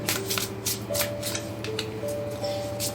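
Tarot cards being shuffled close by, a continuous papery riffling with quick rhythmic flutters over faint background music.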